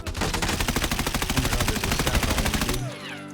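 Sustained full-auto M4 rifle fire in a video game, a rapid, even stream of loud close shots lasting nearly three seconds before cutting off into fading echoes and a clattering tail.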